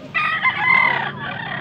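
A single black-legged street-comb gamecock crows close by, one loud, drawn-out call that rises and trails off.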